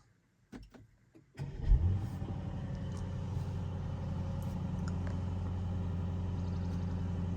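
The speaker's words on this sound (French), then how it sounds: "Et on va allumer la voiture." An Aston Martin DBX 707 starts up with a few faint clicks, then a loud cranking burst that settles into a steady, deep idle rumble close by, with no talking.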